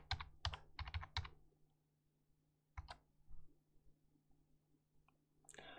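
A computer keyboard being typed on up close: a quick burst of several key clicks, then a couple of isolated taps after a pause, and a final sharper click, with a faint steady hum underneath.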